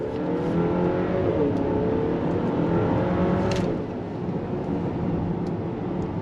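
A 2025 Chevrolet Traverse High Country engine pulls steadily under throttle, a loud continuous drone with rising harmonic tones heard from inside the cabin, easing slightly near the end.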